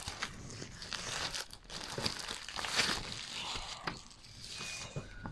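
Packaging of a TRT children's magazine is opened, and plastic crinkles and rustles steadily at close range for several seconds, fairly quiet with no talk.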